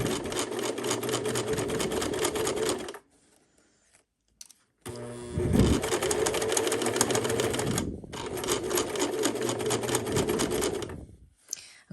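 A sewing machine stitches bias binding around the edge of an 18th-century-style fabric pocket, running in steady rapid bursts of mechanical chatter. It pauses briefly in two quiet gaps between runs.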